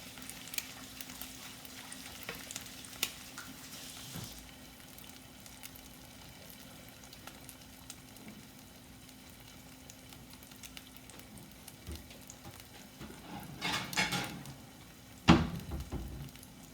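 Eggs fry in a pan with a low, steady sizzle and crackle, which grows louder toward the end along with a sharp clatter.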